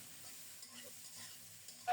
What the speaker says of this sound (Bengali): এখন পটলগুলো দিয়ে দিলাম